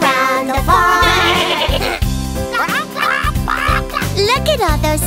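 A goat's bleat in a children's farm song, where a singing voice imitates the goat with repeated rhythmic calls over a bouncy instrumental backing, loud and close.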